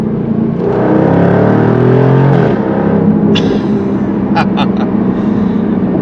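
A 2024 Jaguar F-Type R75 with a supercharged V8 revs hard up close, its pitch climbing through the gears before lifting off into crackles and pops, with no one talking.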